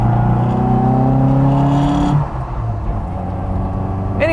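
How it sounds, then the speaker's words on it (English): A 1972 Innocenti Mini Cooper drives with a loud, close engine drone heard from inside. The pitch climbs under acceleration, then drops sharply as the revs fall back to a lower, steadier running note. "I'm enjoying driving this Mini"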